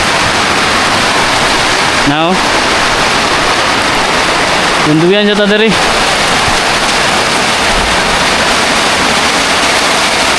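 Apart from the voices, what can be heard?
rain pouring on crops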